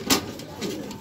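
Soft racing pigeon cooing with a brief louder call near the start, then quieter murmuring coos over light background noise.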